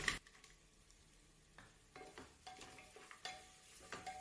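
Cashews frying in a pan with onions for a restaurant-style veg cashew matar pulao: a soft, steady sizzle broken by several louder scraping stirs, faint and close.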